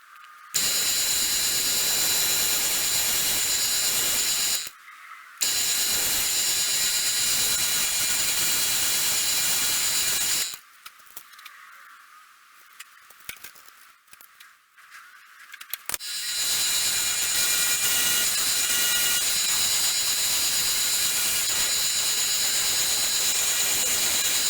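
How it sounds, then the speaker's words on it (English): A drill press countersinks holes in the rear spar of an RV-14A elevator, giving a loud, steady mechanical roar that cuts out for several seconds midway before starting up again at full strength. "I set up my drill press to continue countersinking"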